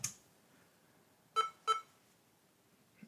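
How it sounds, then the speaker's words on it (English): A computer beeps when booting a Linux installer: two short clear electronic bleeps in quick succession, close by, with a faint click before them and near-silence around. "this one does beep when you first boot into it"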